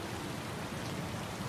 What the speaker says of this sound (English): rain sounds were pretty loud when you were outside